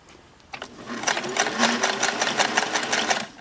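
Singer Model 401A sewing machine running a two-needle, four-thread stitch, a steady close mechanical whirr with rapid needle clatter starting after a brief pause and continuing evenly.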